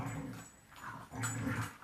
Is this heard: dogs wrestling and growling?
yes